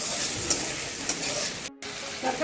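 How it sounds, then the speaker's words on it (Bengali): Grated coconut frying and being stirred in hot oil in a pan while cooking chholar dal, a steady close sizzle with light stirring scrapes and a brief dropout near the end. "নারকেলটা 2 মিনিট ধরে খুব ভালো মতো করে তেলের সাথে ভেজে নিচ্ছি।"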